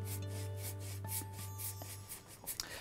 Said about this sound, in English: we're going to rub some of this white all across